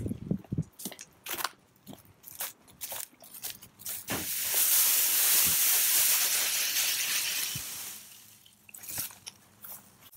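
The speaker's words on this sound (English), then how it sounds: "So I'll go dump these in the bin" Chopped leaves from a battery-powered EGO Power+ mower's bag are dumped into a bin, producing a close, dense rustling crunch that swells into a sustained hiss of tumbling debris before scattered rattles trail off.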